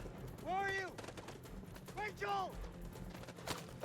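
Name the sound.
gunfire in the video game House of Ashes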